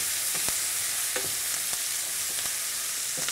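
Onion frying in sauce in a saucepan sizzles as a continuous hiss, broken by quick scraping stirs at a steady rhythm. Nobody talks.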